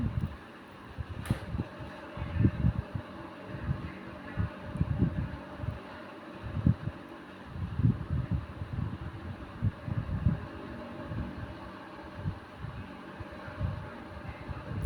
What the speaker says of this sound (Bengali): প্রচণ্ড হাওয়া দিচ্ছে বাইরে।